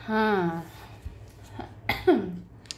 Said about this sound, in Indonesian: batuk dulu ya.